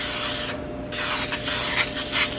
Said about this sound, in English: I'm just gonna spray it with this cooking spray